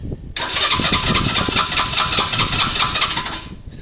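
A Lexmoto Valiant motorcycle on choke, not started all week, cranks briefly and fires into a loud, steady idle that runs for a few seconds before cutting back.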